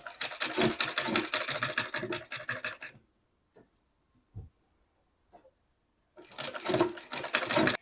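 Sewing machine stitching a seam on a lace-trimmed suit, running in two fast rhythmic bursts at the start and end with a quiet gap holding a few clicks between them.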